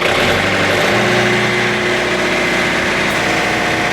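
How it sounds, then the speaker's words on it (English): An engine runs loud and close with a steady, throaty drone that steps up slightly in pitch early on and then holds a constant roar. "let's give her a bit more throttle here and see what happens"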